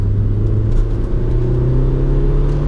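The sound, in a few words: 2018 Kia Picanto GT-Line S engine, downshifting to second gear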